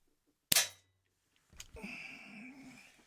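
An air pistol fires a single sharp pellet shot at a paper target, a crisp crack followed a second later by a faint mechanical clatter and rustle.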